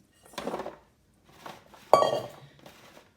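Sweet potato fries are tossed in a bowl for a light dusting of coating, heard as three short bursts of rattling and clinking, the last one the loudest, with no talking.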